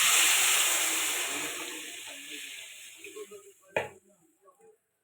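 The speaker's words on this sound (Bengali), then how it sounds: "এবার জল দিয়ে দেবো।" Water is poured into a pan of frying, spiced rohu fish and kohlrabi curry, setting off a loud, close hiss that slowly fades, followed by a brief clatter and soft bubbling.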